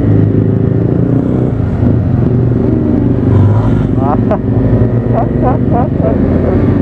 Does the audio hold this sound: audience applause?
no